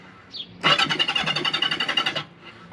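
A 1979 Kawasaki KZ motorcycle with the choke on cranks over in a start attempt, a loud close starter whirr pulsing rapidly for about a second and a half before cutting off, with a brief faint noise before and after.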